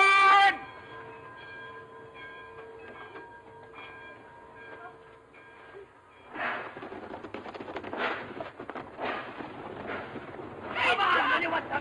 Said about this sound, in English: Hurry up, get on that train here.